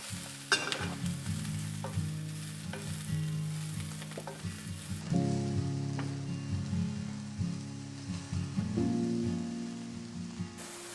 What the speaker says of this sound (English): King oyster mushroom. Saute for 1 to 2 minutes.